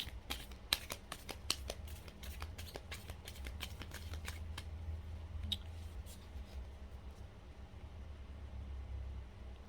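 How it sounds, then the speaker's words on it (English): Playing cards are shuffled by hand in a quiet room, a quick burst of crisp riffling clicks in the first few seconds followed by scattered softer card snaps, close and faint. "That was a shuffle."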